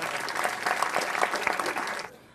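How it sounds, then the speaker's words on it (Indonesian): A stand-up comedy television audience applauds a guest doctor with brisk crowd clapping mixed with a few whoops, running steadily for about two seconds before cutting off abruptly. "Beri tepuk tangan untuk Dr."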